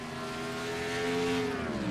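A Chevy Camaro race car drones around an oval track at speed, its engine loud and sustained with a slight pitch shift as it passes.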